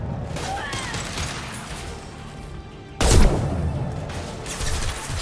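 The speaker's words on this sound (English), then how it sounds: "Good shot! Sit down! I love this rifle." Rifle gunfire in the video game Mass Effect 2: rapid bursts of shots with mechanical clatter, a louder booming impact halfway through, and game effects and voices mixed underneath.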